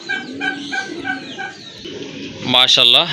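A pair of kagzi pigeons coo in short repeated calls at close range among other fowl sounds, with a louder bright bird call near the end and a voice talking over parts of it.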